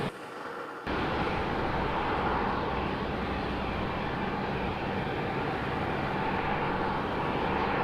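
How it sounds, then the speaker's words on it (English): Jet airliners, among them an American 737, taxi toward the runway at Raleigh-Durham International Airport, a steady loud engine roar that swells after the first second and holds without pause. "Got American 737 making its way out to 2-3 right."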